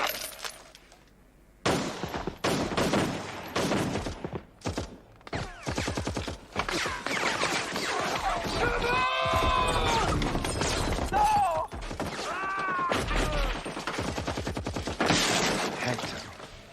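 Rapid gunfire bursts crackle through an action movie shootout, dense volleys of shots at moderate level with brief pauses and some shattering, a voice briefly heard among them.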